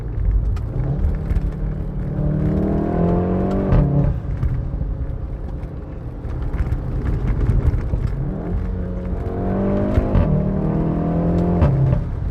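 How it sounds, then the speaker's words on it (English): Steady rushing wind and road roar inside a moving VW Golf 7.5 R with a 2-liter turbo four and DSG gearbox, the engine rising and falling in pitch as it accelerates and shifts. "It's quite a lot of wind noise"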